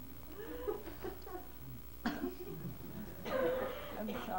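A man coughs and clears his throat during a quiet indoor interview, with several short rough bursts spread across a few seconds, fairly close and not very loud, against a low background hum.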